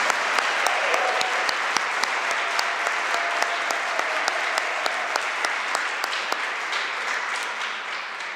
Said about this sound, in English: Could we give a bit of a louder round of applause for our National Junior Honor Society